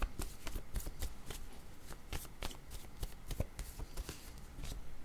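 Playing cards are shuffled and a word card is drawn from a tarot-style deck, a run of quick, soft riffling flutters and light card slaps close by, moderately quiet and without voices.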